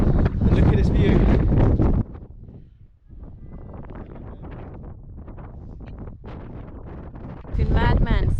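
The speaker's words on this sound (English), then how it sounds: "It's very windy." Strong gusting wind buffets the microphone on a clifftop at Preikestolen in Norway, loud roaring bursts at the start and end with steadier rushing in between, while people talk over it.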